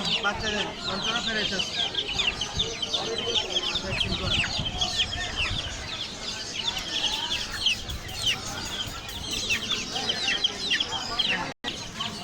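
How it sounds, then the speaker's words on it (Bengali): Silkie and Brahma chicks and fowl crowd a busy bird and pigeon market in Mirpur. Dense overlapping chirps and clucks fill the whole stretch, with market bustle and faint voices in the background. "ব্রাহ্মা বাচ্চাও রয়েছে, সিল্কি মুরগির বাচ্চাও রয়েছে।"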